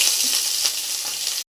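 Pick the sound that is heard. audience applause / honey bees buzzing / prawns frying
prawns frying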